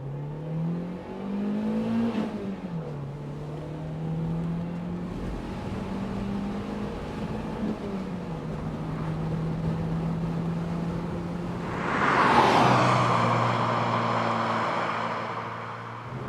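An MG TF two-seater roadster engine rises and falls steadily as it runs through the gears on a road, with clear shifts between pitches, a louder rev surge near the end, and no talking.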